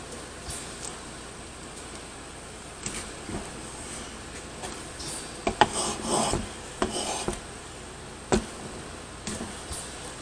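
Hand-sanding wood on a sign in a small workshop: faint, irregular rasping strokes, with a few louder scrubbing passes in the middle and sharp knocks scattered throughout.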